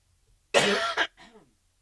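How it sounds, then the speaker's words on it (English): Two harsh coughs in quick succession, close and loud, followed by a short breathy throat-clearing sound, then silence. "so please forgive my coughing"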